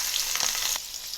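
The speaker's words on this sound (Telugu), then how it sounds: "ఇప్పుడు ప్యాన్ పెట్టుకొని ఆయిల్ వేసుకొని వేడయ్యాక పోపు దినుసులు యాడ్ చేసుకున్నాను." Onions and green chillies with tempering spices frying in hot oil in a pan, a short close bright sizzle with a brief burst of crackling before it settles slightly.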